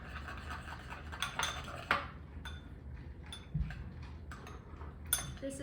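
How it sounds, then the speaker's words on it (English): A spoon stirs a mixture after a touch of cumin goes in, giving soft, scattered clinks and scrapes against a bowl. The sounds are quiet and close, with a low background hum. "We're going to add just a touch of cumin to this, and give that a little stir."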